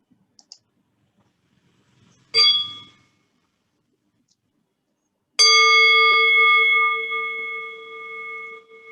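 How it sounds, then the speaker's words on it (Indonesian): A meditation bell rings out at a Buddhist dharma sharing session: a brief metallic strike, then after a pause a clear, loud struck bell with a long sustained ringing tone that slowly fades. "kita akhiri dengan mungkin satu lagi suara lonceng dari Liana."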